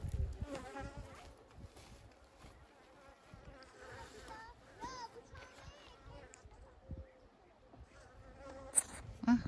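Many honey bees buzz steadily and close by around a hive, a dense humming swarm with faint voices and rustling in the background.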